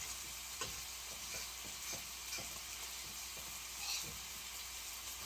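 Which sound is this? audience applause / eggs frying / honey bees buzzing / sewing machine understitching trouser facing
eggs frying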